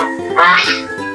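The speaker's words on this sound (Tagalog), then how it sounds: "Gansa." A single loud, nasal honk from a goose, close by, lasting about a second.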